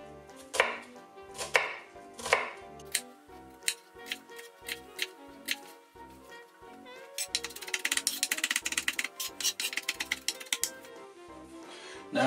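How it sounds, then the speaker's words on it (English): Knife rapidly and finely chopping an onion on a board, a brisk run of close, crisp cuts that speeds into a dense flurry toward the end. "we start by very finely chopping our onion"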